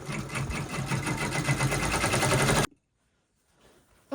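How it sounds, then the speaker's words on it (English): An embroidery machine runs a raw-edge bow appliqué placement stitch, a fast steady mechanical whirr and rapid needle chatter that stops abruptly after a few seconds, leaving near silence. "Now this is the placement stitching."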